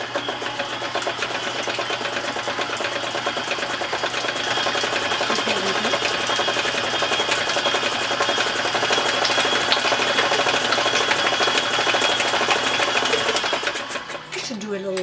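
An electric mixer whirs steadily as it blends batter for a whole wheat apple harvest cake, a continuous close motor drone lasting throughout, with a voice speaking over it at times.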